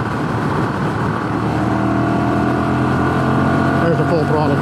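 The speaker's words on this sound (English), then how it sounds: "There's a full throttle blast. Full throttle, it really lurches pretty good." A Ducati Monster Evo 1100 motorcycle accelerates at full throttle, a loud, sustained engine roar whose pitch climbs steadily, with a rider's voice talking over it.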